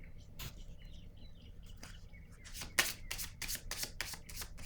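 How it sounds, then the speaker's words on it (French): A card is drawn from a deck in a tarot reading, with soft rapid riffling and flicking of cards, a quiet papery burst building over a few seconds, close and faint. "Je vais piger une carte ici sur le chariot."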